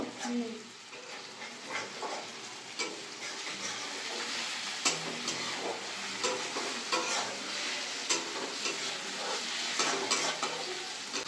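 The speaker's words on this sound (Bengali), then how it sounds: "পেঁয়াজ আর টমেটোটা ভালো করে ভাজা হয়ে গেছে" Steady sizzling of onions and tomatoes frying in a pan for biryani, with a spatula scraping and stirring at irregular intervals, close up, with faint voices at times.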